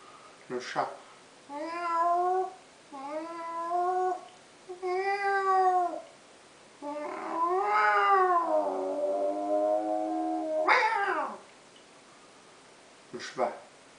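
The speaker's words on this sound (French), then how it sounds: "Le chat." A domestic cat meows repeatedly, close and clear, with several drawn-out harmonic calls and one longer wavering meow near the middle, separated by short pauses.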